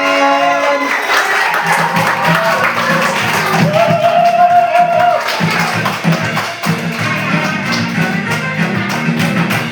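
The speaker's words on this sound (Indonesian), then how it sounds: "Beri tepuk tangan dong" Studio audience applauding to welcome guests Bapak Haji Ahmadi and Ibu Hajah Umi Rodia onto a talk show set, steady dense clapping throughout with music playing underneath.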